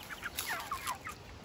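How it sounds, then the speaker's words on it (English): Meat chickens cluck in short, repeated bursts, several birds close by, with a steady high-pitched hiss in the background. "These are all our meat chickens."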